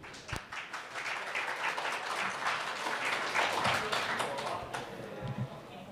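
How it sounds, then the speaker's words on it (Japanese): An audience at a Python conference session in Japan claps to welcome a speaker, steady moderate applause from a modest crowd building then easing, with a sharp tap near the start. "拍手でお迎えください"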